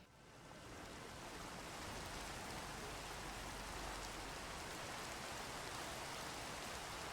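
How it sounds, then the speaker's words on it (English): Steady rain at night in a big city, a dense even hiss of drops that swells in over the first second and then holds constant, with no voices. "A dark, rainy night in the big city."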